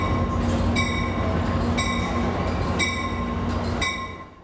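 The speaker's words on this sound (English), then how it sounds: "On the platform of Union Station, we find an Amtrak Pacific Surfliner coming in." An Amtrak Pacific Surfliner passenger train rolls into Union Station close by, with steady rumbling and repeated high, ringing wheel squeals at regular intervals before it fades.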